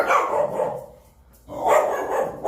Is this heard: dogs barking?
yes